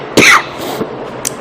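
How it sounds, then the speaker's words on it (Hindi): A man gives a sharp, close cough, then makes a softer throat sound, with a short pause before a final quick rasp. "खांसी अभी भी है"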